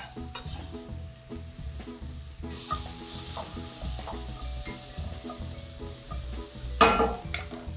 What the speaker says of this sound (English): You add your apples right to it.